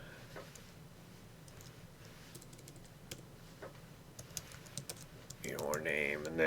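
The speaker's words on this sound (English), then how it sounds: "you'll type in your name" Computer keyboard keys clack in a quick, light run of typing as a name is entered in After Effects, close and fairly quiet, with a voice starting near the end.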